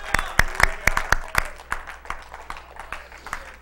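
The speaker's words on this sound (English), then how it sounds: "Give the Lord a hand clap and a shout." A church congregation gives a round of hand claps, a few sharp individual claps at first that build into scattered applause and then fade, heard fairly close in a room.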